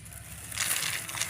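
Shallot skins and seeds tumble into a plastic kresek bag, making a brief crinkly rustle and crackle that swells midway.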